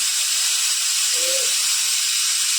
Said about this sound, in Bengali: এরা আমাদের কুকারে সিটি মারবে, আপনারা দেখেন।